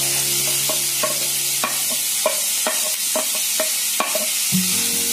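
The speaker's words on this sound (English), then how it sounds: "So once it turns hot, let me add finely chopped onions." Finely chopped onions fry in a little hot oil for prawns sukka, a continuous sizzle broken by regular spatula knocks and scrapes against the pan, close and steady.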